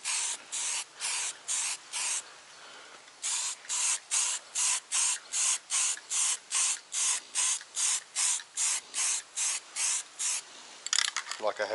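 Dye penetrant is sprayed from an aerosol can onto an RB25DET engine block outdoors in wind, heard as a long run of short, evenly spaced hissing bursts, close and fairly loud, with no talking.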